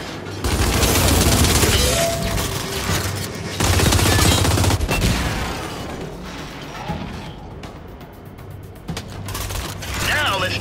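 Dense automatic gunfire and heavy weapon blasts in the Gears 5 video game, loud and nearly continuous rattling bursts with mechanical clatter, easing off briefly before picking up again.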